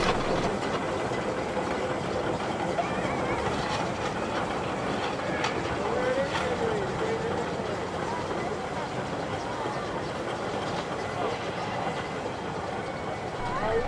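A steam locomotive rumbles along continuously with a dense, steady roar and rattling clatter throughout, close and loud without pause.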